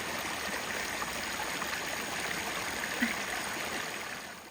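Water splashes and trickles continuously at close range, a steady bright rushing from a small waterfall spilling into a turtle pond, with no voices.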